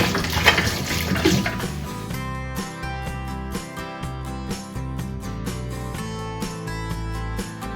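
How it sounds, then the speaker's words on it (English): Boiled water running and splashing into glass bottles, with hollow clinks of glass and a steady rushing flow that shifts in pitch as the bottles fill. "First we soaked the bottles with boiled water to sterilise them."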